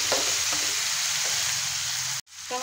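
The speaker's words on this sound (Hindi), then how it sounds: "अब टमाटरों को हम प्याज के साथ अच्छे से पकाएंगे" Tomatoes cook with onions and garlic in a hot pan for an aloo tinda sabzi, giving a loud, continuous close sizzle with faint stirring taps and a brief cut near the end.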